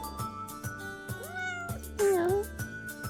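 A cat meows loudly and distinctly at close range, a rising-then-falling cry, over a steady background of repeating music with soft thumping beats.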